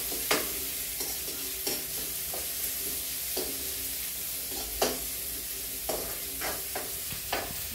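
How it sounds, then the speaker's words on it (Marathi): Spices and ingredients for wet cowpea usal sizzle steadily in a pan, with repeated sharp scraping knocks as a spoon stirs them, alone without talk. "आता हे मी तांबूस परतून घेते"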